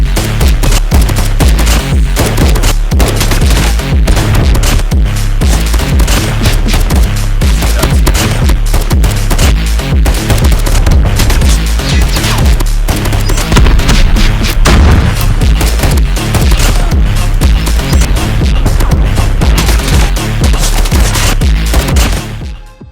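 Rapid, loud gunshots from a Galil rifle in semi-automatic mode in Call of Duty Mobile fire continuously in quick succession with booming reports, a relentless stream that cuts off abruptly at the end.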